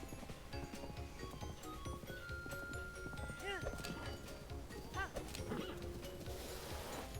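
A horse trots and gallops in Zelda: Breath of the Wild, its hooves a steady, quick clip-clop under ambient game sound, with a few short whinny-like calls and someone talking over it.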